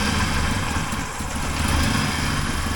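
A 1980 Triumph TR7 engine runs steadily near the microphone, a loud, continuous idle with a rough low rumble and no talking over it.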